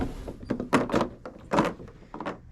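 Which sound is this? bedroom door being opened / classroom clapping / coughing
bedroom door being opened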